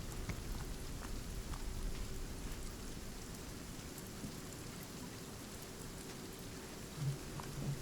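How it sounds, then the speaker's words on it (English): Steady rain falls in the Sons of the Forest survival game, a continuous even wash of drops on the ground with a faint low rumble, holding at moderate level throughout with no speech. "Yeah, it's raining, Kenny."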